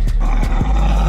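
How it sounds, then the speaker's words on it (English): A dog growls in a kitchen during a household prank, with deep, rough rumbling pulses repeating close by and loud. "Why you growling?"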